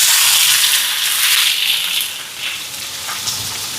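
Mustard seeds, fennel, curry leaves, dried chillies and onion frying in hot oil, giving a loud, bright, hissing sizzle that eases slightly after a couple of seconds and continues steadily.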